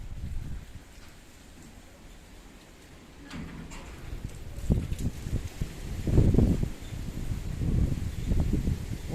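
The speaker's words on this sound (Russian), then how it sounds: "Какой-то аномальный ветер, ребята." Strong, unusually gusty November wind rushes and buffets around trees, starting as a low steady roar and growing into louder irregular gusts and rustling toward the end.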